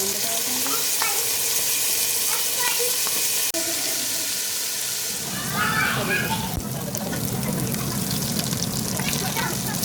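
Ginger and garlic sizzle loudly in hot oil with tomato paste and peppers, a dense continuous frying hiss that swells as ingredients are added, with stirring and a voice speaking over it.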